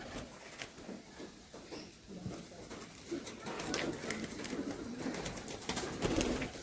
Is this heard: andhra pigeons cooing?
yes